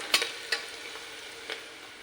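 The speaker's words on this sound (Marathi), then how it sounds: "कांदा टाकलाय, टाकून चांगला कांदा लाल होऊन देऊ।" Onion frying in a pan gives a faint, low sizzle with a few sharp stirring clicks near the start, quiet and close with no speech.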